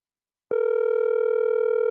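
A steady telephone line tone starts abruptly after half a second of silence and holds, loud and even, as a caller picks up the phone on a radio talk show.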